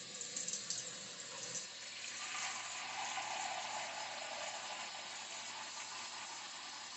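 Tap water pours steadily into a container to make brine for pickled eggs, a continuous broadband rushing that holds for the whole stretch with no talk over it.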